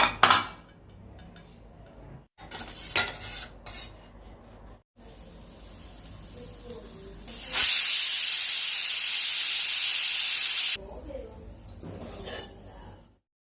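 A home pressure cooker whistles and vents steam on a kitchen stove while bisibelebath and horse gram sambar cook. A loud, steady hiss runs for about three seconds between quieter clinks and kitchen handling noises.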